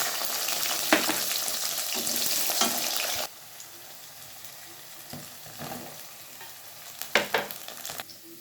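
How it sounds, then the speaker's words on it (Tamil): Mustard seeds, fenugreek and cumin frying in oil for a dry ginger and garlic curry, a loud close sizzle that suddenly drops to a quieter crackle, with occasional utensil knocks and scrapes. "இந்த பனிக்கு இதை நான் கடுகு, வெந்தயம், சீரகம் எல்லாம் போட்டிருக்கேன்."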